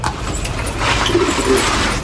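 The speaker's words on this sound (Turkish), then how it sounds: "Buradaki güvercinlerimizi göstereceğiz." Pigeons on a rooftop loft give a few low coos, fairly near, over steady outdoor background noise.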